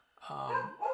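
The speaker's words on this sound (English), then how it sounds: "the dog barks at every little leaf that blows by outside" A single dog bark sounds indoors, close and fairly clear, rising and falling within about a second with no talk over it.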